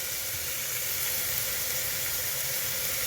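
Carrots stir-fry on a high gas flame for chicken manchow soup, giving a loud, continuous sizzle and hiss with no pauses.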